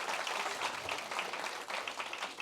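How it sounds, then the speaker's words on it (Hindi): An audience at a mushaira poetry gathering claps, a dense, fairly faint wash of applause that carries steadily through the whole moment. "तो अपने लिए ताली बजाइए।"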